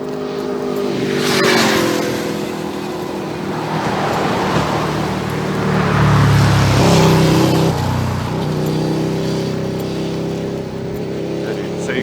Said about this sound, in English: Sounds like another motorcycle.